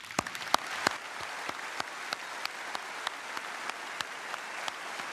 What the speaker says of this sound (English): please join me in giving these graduates a round of applause